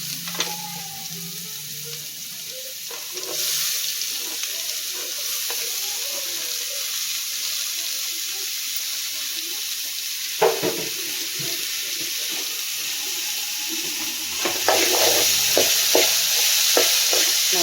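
Chopped beetroot stir-fries in a hot pan for a coconut beetroot poriyal, a steady bright sizzle with occasional scraping stirs and clacks of a spatula, close and continuous, growing slightly louder near the end.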